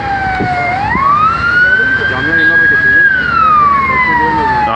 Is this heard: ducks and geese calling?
no